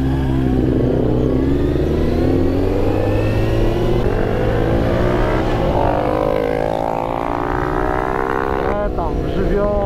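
A sport motorcycle engine drones and revs loudly close by, its pitch rising and falling steadily, with voices faintly underneath.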